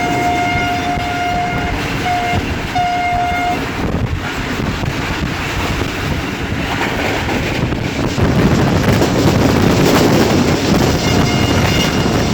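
The Shah Hussain Express passenger train runs from Lahore toward Karachi with a steady rumble of wheels and coaches, wind buffeting the microphone, a horn sounding in short blasts early on, and the rolling noise growing louder toward the end.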